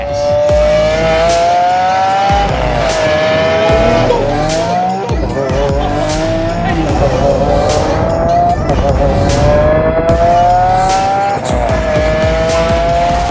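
A Lamborghini Aventador Roadster drives hard with a loud engine that rises and falls through repeated gear changes, tires squealing under acceleration, and a voice talking over the engine noise throughout.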